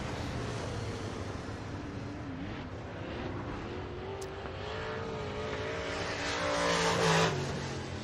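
Dirt-track race cars at Boone Speedway in Boone, Iowa roar past during the closing laps of a heat race, a steady engine drone that swells louder as the field nears, peaking around the finish.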